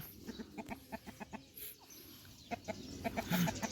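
Free-range chickens cluck in a morning garden, with a run of short, rhythmic clucks at close range, then a brief quiet stretch and a louder burst of clucking with a squawk near the end.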